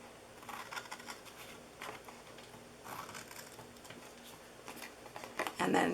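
Scissors snip through a paper treat box in a few short crisp cuts at close range, spaced across quiet handling noise, with a louder rustle of paper at the end.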